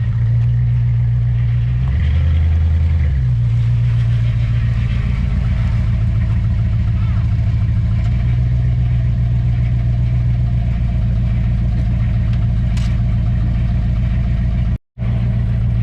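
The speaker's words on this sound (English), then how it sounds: "Alright, we got the car running." A 1994 Chevrolet Caprice that had been sitting unused idles up close. The engine gives a loud, steady low rumble with a brief rev change early on, and it drops out abruptly near the end.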